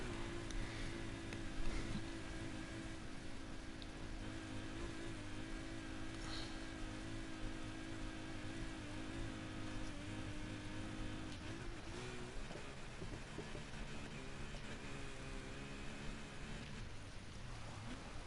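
Ferrari LaFerrari hypercar engine in the racing game Need for Speed Heat, a steady loud roar with sustained harmonic drone and slight pitch shifts as the car drives, continuous throughout with no talk.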